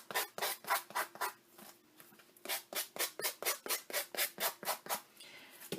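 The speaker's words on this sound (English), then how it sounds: "Take my handy dandy sander" Close, steady back-and-forth strokes of a sander on paper for a picture frame kit, repeated in an even rhythm with a short pause partway through.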